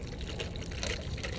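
A Beatbox canned drink pouring into a container, a steady liquid splash and trickle running throughout at close range with no voices.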